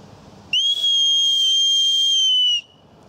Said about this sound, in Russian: Вот покупной свисток, допустим.